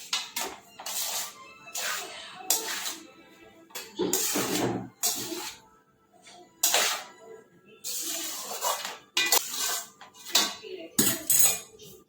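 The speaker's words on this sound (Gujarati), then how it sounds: "રાઈસ નાખી દઈશું આપણે મિક્સ કરી લઈશું" Boiled rice is mixed into vegetables in a pot for veg pulao, with bursts of metal spoon clanking and scraping against the pot, separated by short pauses.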